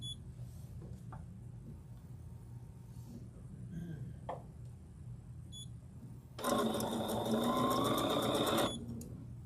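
A sewing machine stitching with pink thread runs in a fast, steady mechanical whir for about two seconds, close and loud, after quieter room sounds and scattered small clicks.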